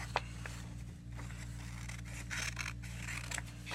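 Scissors cut a triangle from the corner of a paper sheet, making a series of faint, quick snips and rustles close by, with no voices, over a low background hum.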